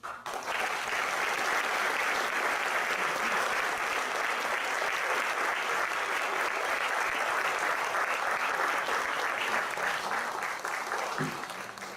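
Sustained applause from a large audience at a book presentation and theatre performance, a dense wash of clapping that holds steady before thinning out near the end.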